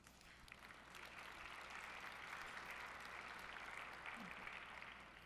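Polite, thin applause at an annual dinner, distant and faint, a few seconds of scattered clapping from the room.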